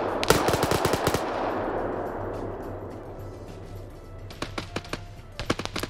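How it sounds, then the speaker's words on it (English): Gunfire in a 175-player Russia versus Britain military shooter game battle: a dense burst of rapid automatic shots up front, then quieter rumbling, with scattered sharp single and short-burst shots returning toward the end. "Mackenzie gets shot by Boris"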